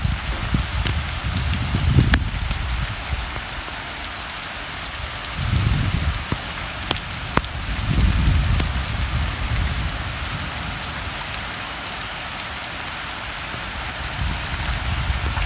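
Heavy, steady rain falling during a stormy spell over farmland, a dense continuous hiss with occasional drops and low rumbling gusts, no voices.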